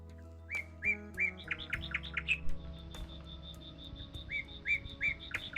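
Birds chirp in quick repeated bursts of bright, high tweets, fairly close, over a low hum of other background noise, including buzzing bees and insects in summer.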